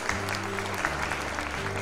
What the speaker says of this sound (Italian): Grazie, un applauso.